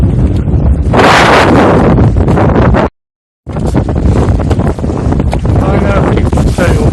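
Heavy wind buffets the microphone aboard a sailboat in about 12-13 knots of wind on choppy water, loud and constant apart from a brief cutout near the middle.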